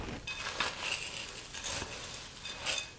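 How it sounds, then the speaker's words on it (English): Chex cereal and pecans are stirred into a Christmas bark mix, soft dry rustling and clattering scrapes in a bowl, quiet and close in a few uneven strokes. "We're going to mix this all up."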